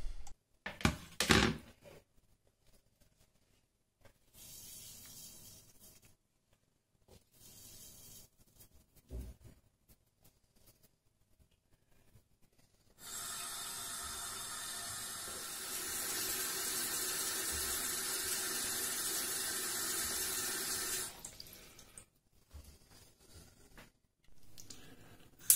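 Tap water pours into a casserole pot of white beans for cooking. After some scattered kitchen clatter, a steady rushing stream runs for about eight seconds, then cuts off.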